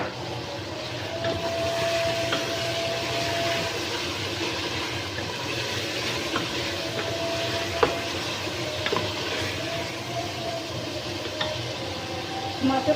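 Tomatoes frying in oil in a pot for aloo gosht make a steady, dense sizzle throughout, close and moderately loud, with a few faint clinks of stirring.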